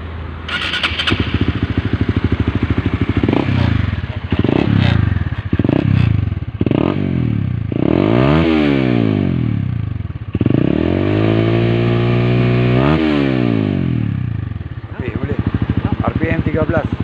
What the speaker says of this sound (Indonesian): So kita dengar dulu bunyi enjin dia.